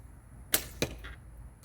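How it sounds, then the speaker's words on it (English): Two sharp arrow releases from a 60-pound hickory longbow shooting at 10 yards, each a crisp snap and whoosh about a quarter second apart, with a faint thud afterward. "This is a 60-pound hickory longbow, and we're going to be shooting at 10 yards."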